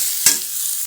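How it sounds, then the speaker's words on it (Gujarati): Cabbage and carrot stir-fried over a medium gas flame for Manchurian, a steady close sizzle with a single louder scrape of stirring partway through, no voices. "આ રીતે હલાવીને આપણે કોબીને ગાજરને તેને મીડિયમ ગેસ પર તે તળવા દેવાનું છે અને આ રીતે હલાવતા રહેવાનું."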